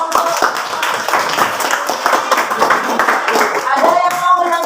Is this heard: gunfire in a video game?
no